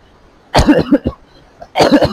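Two harsh, close coughs, the first a short series of hacking bursts, followed after a pause by another.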